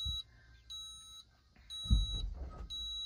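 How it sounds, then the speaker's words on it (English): A Class C motorhome's hydraulic leveling system gives repeated high electronic warning beeps in steady pulses, about three bursts with short gaps, over a low mechanical rumble and some background noise. "It does beep and it warns you that it's operating and working right now."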